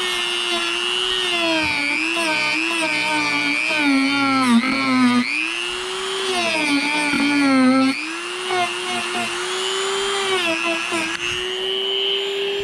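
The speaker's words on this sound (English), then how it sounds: "It's just that little sanding piece." A small rotary sanding bit grinds into a Vans BOA snowboard boot, a loud high-pitched whine that dips and rises in pitch as pressure changes, close and continuous with brief breaks.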